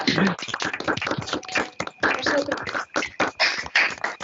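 Webinar participants clap for the speakers over open microphones: uneven, overlapping claps from several people, near and fairly loud, with bits of voices mixed in.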